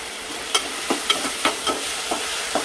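Potatoes frying in hot oil tempered with mustard seeds, cumin, dried red chillies, bay leaf, garlic and onion, a constant sizzle broken by several light clacks of a stirring spoon against the pan.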